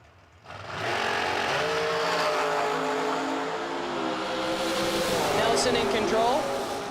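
Two drag race cars launching side by side in a heads-up race at a Big Buck Nationals event, engines roaring loud and sustained with rising pitch as they accelerate away, an announcer's voice talking over them.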